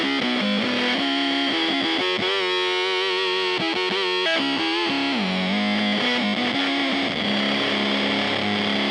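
Electric guitar driven through a Beetronix Swarm octave fuzz pedal, a dense, buzzing distorted tone with octave harmonics, played as continuous sustained riffs and bends at steady high volume with no talking.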